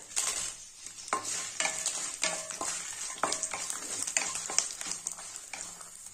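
Garlic and ten dried red chillies fry and crackle in hot oil in a pan, with steady sizzling and repeated stirring scrapes throughout.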